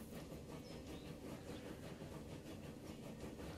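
A train in the railway building game Transport Fever 2 runs on its rails with a continuous rolling rumble and a rhythmic clickety-clack, steady and fairly faint, without any talk.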